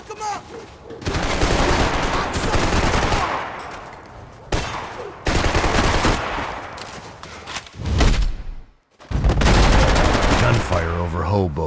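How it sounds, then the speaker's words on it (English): Loud bursts of rapid gunfire from the video game Max Payne, in long volleys broken by short gaps, with a brief voice near the end. "Gunfire over Hoboken."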